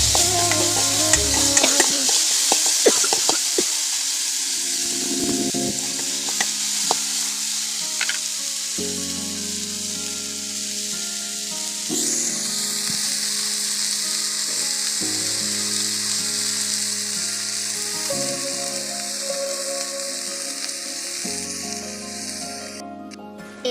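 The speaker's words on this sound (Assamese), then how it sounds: "এতিয়া ইয়াৰ ৰঙা হ'লৈকে ভাজি থাকিম" Food fries in a pan until red and crispy, giving a loud, continuous close sizzle with a broad bright hiss throughout, and some scraping stirs near the start.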